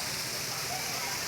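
A steady, dense rush of falling water from a mountain waterfall in the Western Ghats at Chikmagalur, where people bathe, filling the scene evenly without pause.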